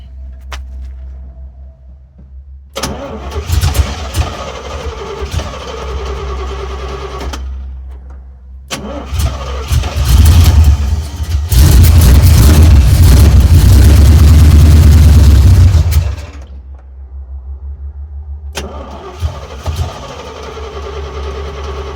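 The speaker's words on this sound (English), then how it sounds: "Let's see if I can give it some throttle." A 1972 Chevrolet C10 truck engine cranks and catches in loud bursts, running unevenly, then revs hard under throttle for several seconds before settling back and stopping, with a final restart attempt near the end.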